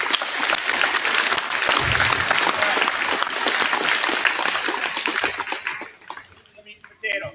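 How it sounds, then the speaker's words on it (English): A school assembly audience gives the track team sustained, dense applause that fills the room for several seconds, then thins out and fades to scattered claps near the end. "let's give the track team a round of applause."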